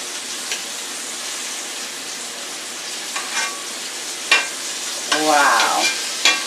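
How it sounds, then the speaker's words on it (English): Turkey nuggets fry in grapeseed oil with a constant soft sizzle, broken by a few sharper clatters and scrapes as pieces are turned in the pan. "Cooking down in that grapeseed oil."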